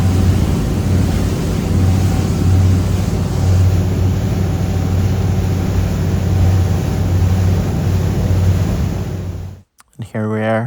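A motorboat engine drones steadily at speed on open water around 27 mph and 2,200 RPM, a loud, constant low hum with wind and hull noise, cutting out near the end.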